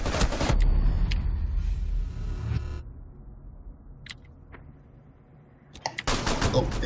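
Gunfire in the video game Rainbow Six Siege: a loud rapid burst opens, the sound drops to a near-quiet stretch with a few faint cracks, then another burst of shots closes.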